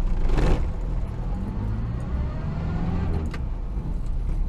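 A Morris Minor rolls freely on a gentle slope after brake and handbrake adjustment, giving a steady low rumble of tyres and running gear with a brief louder swell near the start, no voices.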